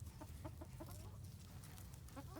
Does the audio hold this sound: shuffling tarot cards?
no